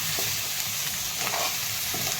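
Chopped drumsticks sauté in a spiced oil tempering for a village-style black masala curry, producing a continuous loud sizzle with soft stirring throughout.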